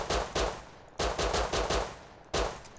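Bursts of automatic fire from the P2 gun in the video game Rust: short rapid volleys of shots in a few separate strings, loud and close, with no talking over them.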